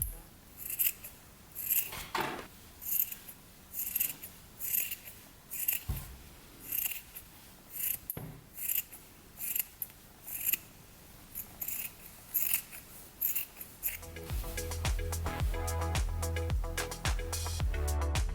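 Scissors snip through sock fabric pieces in a steady series of close, crisp cuts, about a dozen in rhythm. Music rises near the end.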